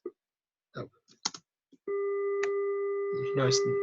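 A steady electronic tone from a filtered square wave or PWM wave sounds continuously and evenly for about two seconds, following a few brief clicks and knocks.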